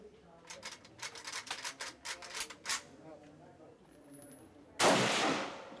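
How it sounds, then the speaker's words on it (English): Worn AK-47 and M60 guns fire at a tourist shooting range, a rapid burst of about a dozen sharp reports followed by a pause and one louder, longer blast near the end. "while I shot an AK-47"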